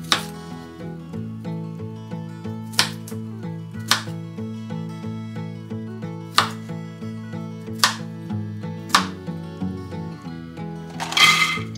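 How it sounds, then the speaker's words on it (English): A kitchen knife rough-chops onions on a cutting board for butternut squash soup, giving a handful of sharp, evenly spaced thuds over a steady musical background. "And then just rough chop the onions."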